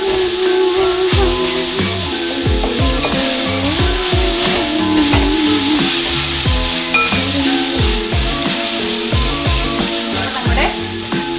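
Ginger-garlic paste and chopped onions fry in a hot pan for chicken curry, giving a steady, close sizzle with continuous hissing and occasional stirring, under rhythmic background music.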